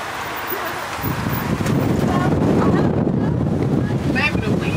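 Wind blowing outdoors, buffeting the microphone with a steady loud rush that grows stronger after the first second, with a voice speaking briefly underneath.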